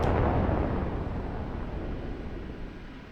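AGM-114K missile launched from an OH-58D Kiowa Warrior in the DCS flight simulator, a sharp loud whoosh at the onset decaying into a long broadband rumble that fades over a few seconds.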